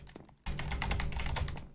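Fast, dense typing on a computer keyboard during a Minecraft session, a sudden burst of close, loud overlapping key taps that continues steadily after a brief quieter start, no voices.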